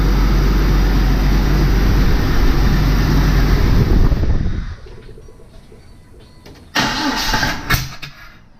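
A Jeep XJ with a newly installed engine roars loudly, then cuts down to a quieter idle before a sudden loud backfire punches through.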